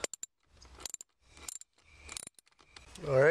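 Tools working the 10 millimeter bolts that hold a steering wheel's airbag: scattered metallic clicks and ratcheting taps with short pauses, close and fairly quiet, ending in a louder rustle.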